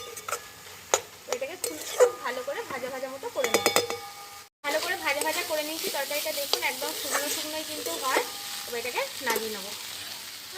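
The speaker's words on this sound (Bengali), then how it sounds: "এটাকে দিয়ে বেশ ভালো করে ভাজা ভাজা মতো করে নিতে হবে" Peels of pointed gourd, potato and pumpkin frying and being stirred in a pan, with a steady sizzle, repeated scraping and clinking strokes, and a voice sounding intermittently over the cooking.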